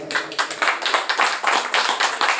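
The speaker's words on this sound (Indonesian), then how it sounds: "Beta minta teman-teman untuk beri aplaus dulu untuk mereka." An audience at a political organisation's gathering claps in a steady burst of applause, close and moderately loud, with no voices over it.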